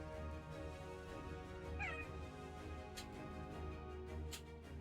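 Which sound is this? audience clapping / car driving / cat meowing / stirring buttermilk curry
cat meowing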